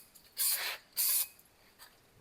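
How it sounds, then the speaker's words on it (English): Brake cleaner sprayed onto the face of a Ford Focus brake rotor, two short close hissing bursts in quick succession followed by a faint brief puff, no talking. "I'm going to go ahead and use some brake cleaner to clean off the face of it"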